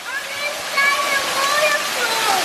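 Waterfall heard while standing beneath it: a loud, steady, close roar of falling water with a voice speaking over it.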